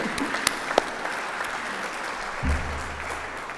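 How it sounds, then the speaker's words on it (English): At a plastics pact launch at the Australian National Maritime Museum, a crowd gives sustained, moderately loud applause for the APCO team, with a few sharper individual claps and a brief low rumble partway through. "we get a big clap for holding all of that together"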